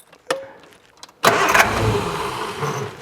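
A 1968 Triumph Vitesse engine cranks with a brief starter turn, then fires and catches, settling into a loud, rough close-up idle.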